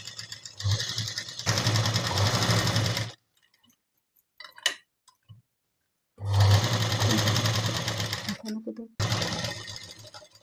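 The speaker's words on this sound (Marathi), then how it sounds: "पिन लावून घ्यायचा कारण ही बाही शिलाई मारून घ्यायची" A sewing machine stitches a sleeve in two loud, steady bursts of a few seconds each, separated by a quiet pause with faint handling clicks, then starts up again at the end.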